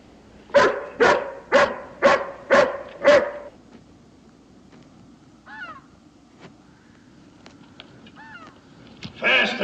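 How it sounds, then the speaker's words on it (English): A hound dog barks five times in a quick, loud, evenly spaced burst, followed by quieter scattered sounds and faint bird calls before another noise rises at the end. "Can't you temper this hound some?"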